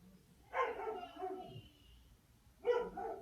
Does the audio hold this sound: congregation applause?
no